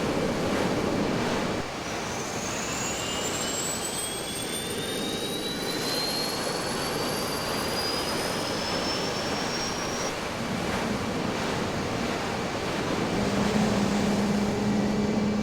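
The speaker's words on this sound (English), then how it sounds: "Now that both engines are running, release the brakes and ease the throttle forward very slightly." Jet engines run on a carrier aircraft in the FSX flight simulator, producing a continuous loud roar with rising and falling turbine whines layered over it and no speech.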